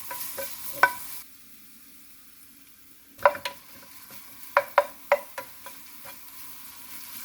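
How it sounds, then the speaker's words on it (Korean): Garlic in oil in a tilted frying pan, sizzling faintly at low heat while a utensil stirs and taps against the pan in scattered clicks, with no voices. "마늘을 볶아줍니다"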